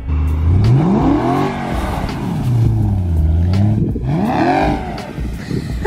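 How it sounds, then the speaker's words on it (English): BMW E92 M3 engine revving during off-road burnout attempts, loud repeated rises and falls in pitch as the throttle swells and drops, close and dominant. "Try doing some burnouts."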